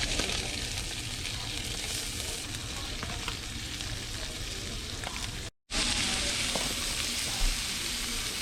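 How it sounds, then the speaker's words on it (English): Onions sizzle steadily in butter in a hot cast iron skillet, a dense, continuous frying crackle that stays loud and even throughout, broken by one brief moment of silence. "We're gonna go ahead and get these added to the hot skillet, hot cast iron."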